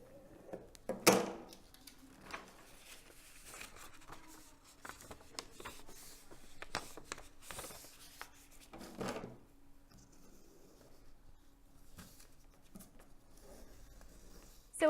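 A scoring tool drags along cardstock to press a fold line for a panelled gatefold card, with faint scraping strokes, light taps and handling rustles spread across a quiet stretch.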